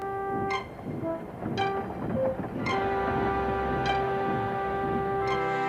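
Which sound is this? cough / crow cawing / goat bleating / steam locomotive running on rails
steam locomotive running on rails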